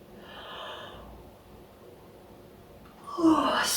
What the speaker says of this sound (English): Yawning is the body's way of releasing tension, just so you know.